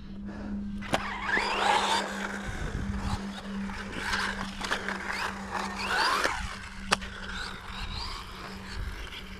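A WLtoys 1/12 scale RC car on a pump track revs its small electric motor with a steady whine, broken by a few sharp clicks and scrapes at close range.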